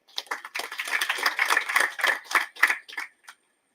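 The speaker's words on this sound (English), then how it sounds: "Can you please give him a round of applause?" Scattered hand clapping from a small audience at a prison graduation ceremony for inmates and officers, a few seconds of uneven, fairly close claps that trail off.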